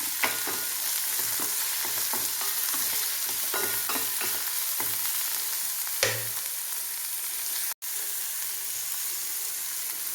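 Thinly sliced half onion with a little salt sizzles in hot oil in a pan for a mango fish curry, with a steady broadband frying hiss broken by scraping stirring strokes, close and loud, with no talking.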